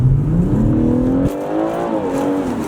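A BMW M140i in sport mode slows under braking; the engine note drops in pitch, with a shift partway through, heard close and loud from inside the car.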